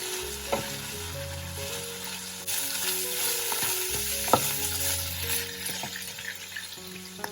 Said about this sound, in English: As we keep mixing, the cabbage will shrink.